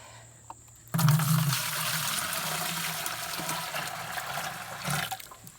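Water pours steadily into a Wonder Wash hand-crank clothes washer for several seconds, a loud close splashing fill that starts abruptly and runs nearly to the end before stopping.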